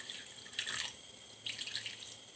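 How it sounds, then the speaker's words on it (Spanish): Water splashes into a clay pot holding raw pork ribs in two short, faint bursts of pouring and trickling. "le voy a estar agregando un poco de agua"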